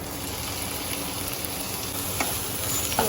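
Chopped tomatoes frying in a pan over browned onions, giving a dense, even sizzle that holds steady throughout, close and fairly loud, with a couple of faint clicks near the end.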